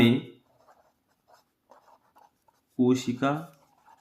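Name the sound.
writing with a pen on paper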